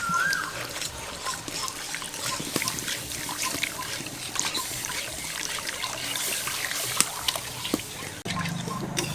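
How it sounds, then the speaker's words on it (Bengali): Thickened milk for mishti doi pours steadily into a bowl, a continuous trickling and sloshing stream that runs close and moderately loud for most of the clip before stopping abruptly near the end. "এখন এর মধ্যে দিয়ে দেব 750 থেকে 800 গ্রাম ঘন করে রাখা দুধ।"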